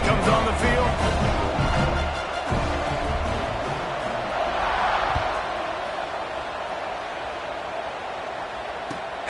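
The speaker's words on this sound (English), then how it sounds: "Do you think this crowd's going to get loud when their defense comes on the field?" A stadium crowd at a Wake Forest football game sends up a broad, steady roar that holds through the whole stretch and eases slightly over time, with no clear single voices.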